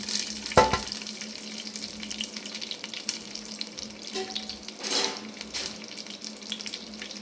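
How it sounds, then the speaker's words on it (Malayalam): Cashews, raisins and cardamom fry in ghee in a non-stick pan for pineapple payasam: soft sizzling with a few clinks and stirring scrapes, a brief splash-like burst near the middle; no talking. "അണ്ടിപ്പരിപ്പ്, മുന്തിരിങ്ങ, അതുപോലെ തന്നെ നല്ല ഫ്രഷ് ഏലക്ക ഇത് നമ്മളിതിലേക്ക് ഇടുകയാണ്."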